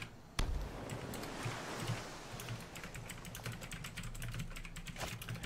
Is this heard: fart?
no